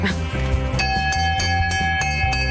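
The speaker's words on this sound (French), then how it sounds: "Il y a la cloche." A bell rings repeatedly in a steady rhythm, its bright sustained tones layered over continuous background music or noise.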